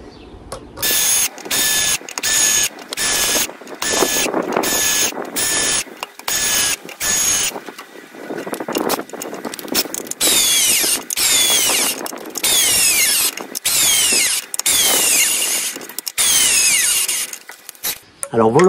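A cordless impact driver drives lag screws into wood in a test of four drivers, giving loud, close, rattling hammering bursts separated by short pauses, repeated many times; a voice speaks briefly.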